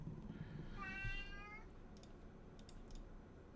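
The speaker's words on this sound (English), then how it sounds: "There's my cat." A single cat meow from modded Minecraft, mid-length and fairly clear, rising and falling over a quiet hiss, followed by a few soft keyboard clicks, with no talking.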